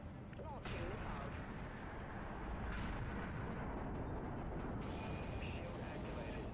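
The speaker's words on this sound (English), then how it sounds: "Launching missiles." Missiles launching and exploding during space combat in The Outer Worlds, a dense, continuous roar of booming blasts and rumbling bursts that fills the whole stretch at steady loudness.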